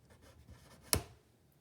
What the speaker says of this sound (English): I'm gonna write that right here where you guys can see it.